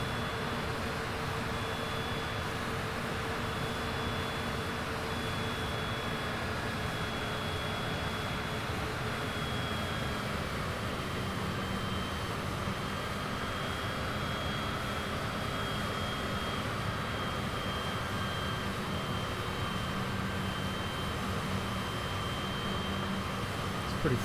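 Cessna CJ4 business jet taxiing quickly in Microsoft Flight Simulator 2020, a steady continuous turbine whine and engine rumble with a faint high tone, constant and unbroken throughout with no talk.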